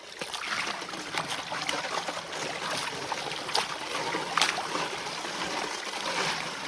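Gravel and water sloshing and trickling through an old-style rocker box used to wash gravel for gold, a steady rushing wash with scattered splashy bursts, fairly close, with no talk.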